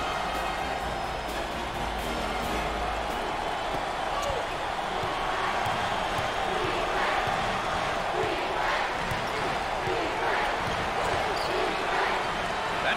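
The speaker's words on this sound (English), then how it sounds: "You talk about a packed house. Look at this crowd." A packed arena crowd at a 2021 NCAA Tournament second-round game between Oakland and Virginia roars steadily throughout, with basketball bounces and shoe squeaks on the court and commentators talking over the noise.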